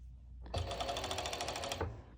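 A serger runs a seam joining lining to lycra for a cut-out cropped top, a single fast buzzing run of rapid stitching lasting just over a second, close and clear against a quiet background.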